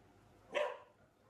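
A single dog bark rings out from the street outside a home, short and moderately loud against a quiet background.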